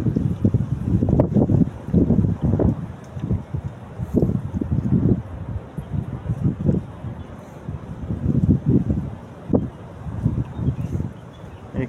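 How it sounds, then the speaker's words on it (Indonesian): Real wind blows over a small boat, buffeting the microphone in low, rumbling gusts that rise and fall in irregular waves, fairly loud and close, with no clear voices. "Langsung anginnya asli lah."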